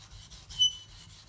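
A knife blade rubbing across a coarse Shapton Pro 120 whetstone, a short gritty scrape with a slight squeak at its peak, close and fairly quiet.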